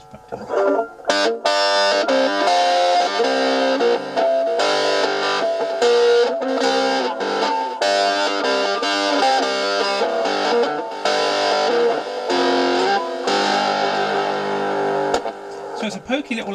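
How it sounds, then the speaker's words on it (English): A Harley Benton Telecaster electric guitar played through a micro amp fitted into its body, with distortion and delay, rings out in chords and single-note runs, loud and close, with brief gaps between phrases. "And it's got a nice distortion."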